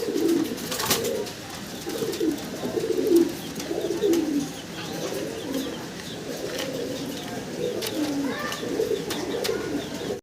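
Pigeons kept in pairs coo in low, repeated throaty calls over about ten seconds, several birds overlapping at close range, with a few sharp knocks in the background.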